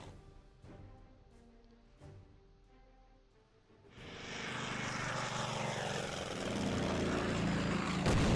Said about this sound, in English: Planes are moving away.